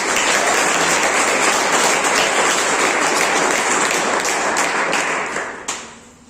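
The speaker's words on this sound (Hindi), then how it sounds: "तो चलिए एक बार वो बॉयज के लिए जोरदार तालियां आप लोग भी बजा दीजिए" An audience at a school quiz game gives loud, sustained applause for the winning boys' team, a dense wash of clapping that holds steady before tapering off and ending with a few scattered claps.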